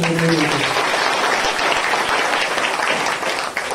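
Church congregation clapping loudly, a dense burst of many hands applauding close by, with a brief voice at the start under the clapping.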